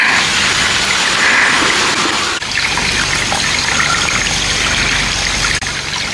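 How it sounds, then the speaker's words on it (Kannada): Water from small springs rushes and gushes in a steady, loud, continuous flow close by, with no voices over it. "ಇಲ್ಲಿಂದೆಲ್ಲ ಚಿಕ್ಕ ಚಿಕ್ಕಕ್ಕೆ ಬುಗ್ಗೆ ಬುಗ್ಗೆ ಥರ ನೀರು ಬಂದು ಎಲ್ಲ ಇಲ್ಲಿ ಕೆಳಗಡೆ ಸ್ಟೋರ್ ಆಗುತ್ತೆ"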